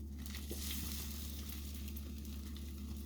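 French toast sizzling steadily in a hot pan for a Monte Cristo breakfast sandwich, a continuous close frying hiss with faint crackles and no talking.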